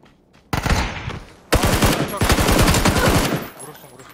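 Rapid automatic gunfire in a first-person shooter game, loud bursts of shots starting abruptly, pausing briefly, then resuming in a dense rattling stream before fading.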